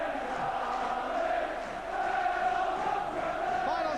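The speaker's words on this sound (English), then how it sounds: "They're the Liverpool fans. It's the same old story for them, cheering on another Liverpool victory." Liverpool supporters in a packed crowd at Villa Park during an FA Cup fourth-round match against Aston Villa, producing a steady, distant roar of cheering and chanting that stays broad and even throughout, with no clear single voices.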